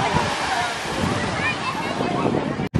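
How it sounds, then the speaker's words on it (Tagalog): Gentle sea waves washing at Laiya Beach, a continuous soft surf wash with wind buffeting the microphone, close and fairly loud, ending with a brief dropout. "At hindi naman masyadong malakas din ang alon dito."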